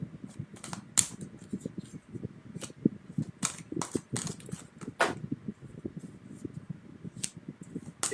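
Scissors snipping during a live tarot card reading, a series of short, crisp clicks and cuts at an irregular pace, close by and moderately loud, with papery shuffling and rustling in between.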